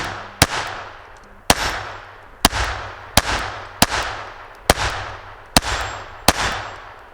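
Ruger SR22 pistol firing Remington Golden Bullet .22 rounds at a range, nine sharp close shots spaced roughly a second apart, each followed by a short fading echo.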